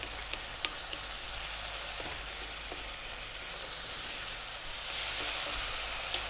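Diced tomato sizzles and fries steadily in a hot pan for a Turkish pide topping, a constant close hiss with a few faint clicks and a slight swell near the end.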